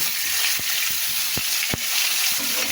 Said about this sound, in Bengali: এই দুটা মাছ আগে ভেজে নিচ্ছি